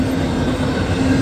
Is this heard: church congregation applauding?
no